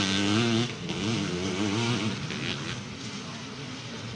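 Motocross bikes from Honda, KTM and Kawasaki race at a 1980s British championship meeting, their engines buzzing and rising in pitch before fading into a distant drone, with a commentator talking over them.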